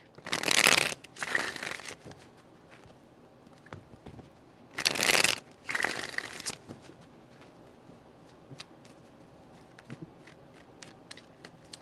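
Tarot cards are shuffled up close in two pairs of quick rippling bursts, separated by a quiet pause with faint handling noises.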